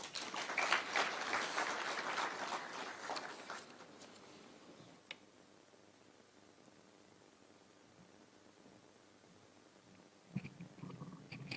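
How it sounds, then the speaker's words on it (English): Audience applause at the opening of the 12th Jurisprudential Conference at Kenya's Supreme Court, moderately loud for about four seconds and then fading into a quiet room, with a short renewed burst of clapping near the end. "Another round of applause for Honorable Mokaya."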